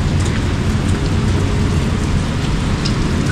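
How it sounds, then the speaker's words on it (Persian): Heavy rain pours steadily and loudly over a park shelter during a scooter trip near Izeh, a dense unbroken hiss with faint rumbling underneath and no voices. "خیلی بارون شدید شد."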